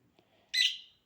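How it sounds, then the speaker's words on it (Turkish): A single sharp bird chirp, fairly close and bright, after a brief quiet lull with faint background noise. "kuşu kuşun sesi için kusura bakmayın"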